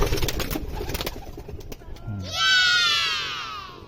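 Pigeons cooing close by after a stretch of rustling and wing flutters, a single drawn-out coo rising clearly near the end, with no talk over it.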